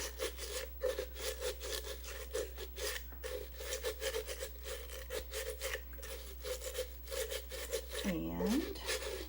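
Fingertips rubbed and swirled in a nail polish remover scrubby tub to lift leftover glitter polish, giving a steady close scratchy scrubbing with rhythmic bristly strokes throughout and a brief squeak near the end.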